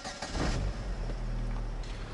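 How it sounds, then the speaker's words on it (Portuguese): A Chevrolet Astra with an intermittent starting problem cranks briefly, then its engine catches and settles into a steady, close idle hum. "deixa eu ligar o carro aqui"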